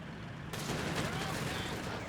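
A barrage of gunfire in the real-time strategy game Company of Heroes 3, a dense rattling fusillade of overlapping shots that kicks in sharply and rolls on, with a commentator talking over it.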